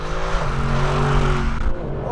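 Mercedes SLS AMG Black Series with its front mid-mounted 6.2-litre V8 roaring, a loud, deep, sustained engine note that holds steady and then eases off near the end.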